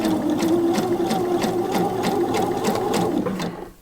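A sewing machine back-stitches and then continues stitching a blouse cuff, running steadily and close for nearly four seconds with a fast even needle rhythm before stopping at the end.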